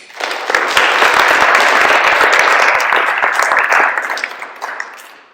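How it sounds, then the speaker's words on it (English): A school audience at a junior public speaking final bursts into loud applause that holds steady for several seconds and then tapers off to a few scattered claps. "So please give yourselves a round of applause."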